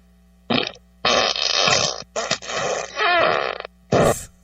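Several loud, close fart sounds in a row, some short and some long and sputtering, with brief silent gaps between them.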